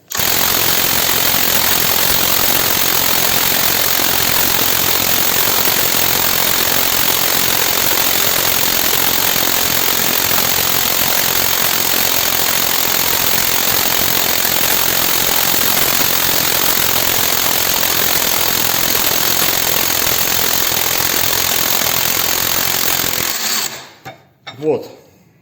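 A SHARKPRO THOR 1500 cordless impact wrench hammers continuously at close range, a loud dense rattling that runs for over twenty seconds before cutting off abruptly.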